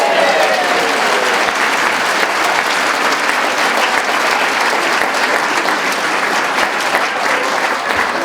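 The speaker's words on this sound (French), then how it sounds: "Je vous remercie d'avoir applaudi spontanément" Loud, dense applause from a large audience at a speech or talk, continuous and even, with many hands clapping at once and no break.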